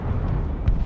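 A tank cannon firing in the War Thunder video game, a brief loud booming rumble that fills the moment with a deep, dense low roar, without any talking.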